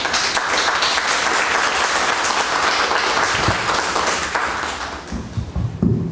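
Loud sustained applause from a seminar audience, dense and continuous for several seconds before thinning into scattered claps and a few thumps near the end.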